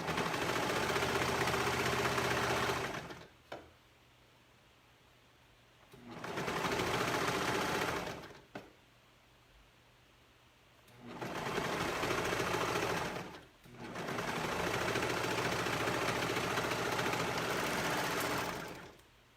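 A sewing machine stitching the neckline of a swim-fabric gathered tank top: four steady, close runs of rapid mechanical whirring, each a few seconds long, separated by quiet pauses.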